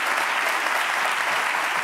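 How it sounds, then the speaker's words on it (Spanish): Studio audience applause on a Spanish late-night talk show, a dense, steady roar of many hands clapping without pause. "Un aplauso para Hugo, que está el tío ahí."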